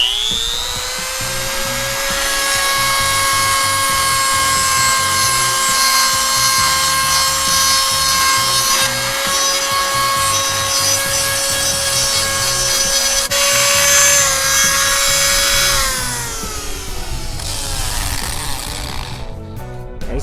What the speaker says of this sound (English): I got my Dremel tool with one of the grinder attachments on it.